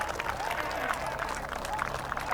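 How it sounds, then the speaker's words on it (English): Crowd applauding from the sideline at a rugby match between Lithuania and Finland, a steady wash of clapping at moderate distance with commentary voices over it. "I heard the crowd clapping on the sideline"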